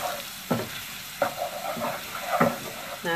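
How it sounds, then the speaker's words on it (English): Garlic stirred in a frying pan for a chicken korma: a steady low sizzle broken by four distinct scraping stirs at roughly even intervals, close and fairly loud. "So we've got the garlic in there. Give it a stir."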